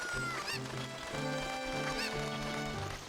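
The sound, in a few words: chicken (cucco) in the video game Zelda Ocarina of Time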